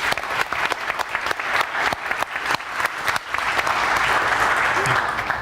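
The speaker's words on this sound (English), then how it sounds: "Let me join me in applause for our panelists." Audience at an EU cybersecurity conference applauds the panelists, steady dense clapping throughout that swells slightly toward the end, with faint voices mixed in.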